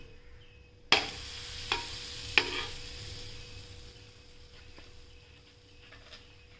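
A garlic lachha paratha fries steadily in a pan with a continuous close sizzle, while a few sharp spatula knocks and scrapes mark it being flipped over.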